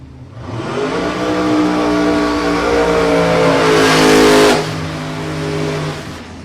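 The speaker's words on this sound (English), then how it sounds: "Good burn on the tyres." Drag racing cars at a night eliminations event do a tyre burnout, a loud, sustained engine roar that rises in pitch and intensity, peaks, then eases off, close and continuous with no talk.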